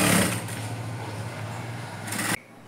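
A sewing machine runs continuously while stitching a simple blouse, a close, even mechanical whir that carries for about two seconds and then stops abruptly.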